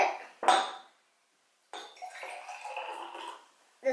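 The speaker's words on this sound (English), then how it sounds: "We're going to put water in the cups, different amounts." Water is poured into glass cups in a few separate pours, with a close clink of glass at the start and a trickling, rising fill in the middle, set apart by short silences.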